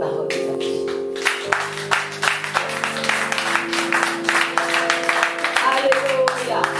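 A church congregation claps steadily and densely for several seconds, the applause close and continuous, with sustained keyboard chords droning underneath and voices calling out over the clapping.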